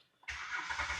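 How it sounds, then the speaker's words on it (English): A Hyundai Veracruz with a misfiring cylinder cranks and catches abruptly, settling into a rough, steady idle heard close by with no talk. "Then I'm just gonna start the vehicle."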